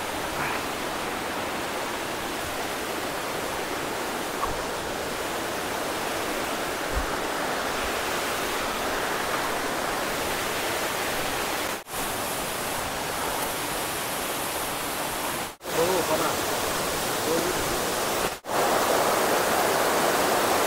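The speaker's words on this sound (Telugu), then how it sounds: "ఇది చూడొచ్చు వాటర్ ఫాల్స్." Nalla Raigooda waterfall roaring steadily up close, a dense continuous rush of falling water with a few brief dropouts, no voices.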